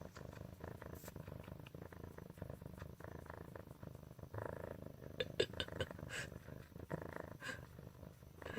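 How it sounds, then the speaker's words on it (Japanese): A black kitten purrs steadily and softly up close, a low rhythmic rumble continuing throughout with faint background rustles. "すごいな、この体勢でゴロゴロ言ってんねんけど。"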